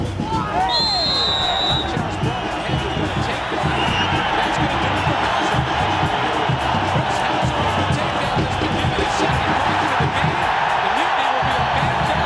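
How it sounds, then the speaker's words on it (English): A large stadium crowd roaring at the Chicago Fire home opener at Soldier Field, a dense, steady wall of cheering and whoops throughout with a faint whistle early on. "a great crowd here tonight for the Fire's home opener"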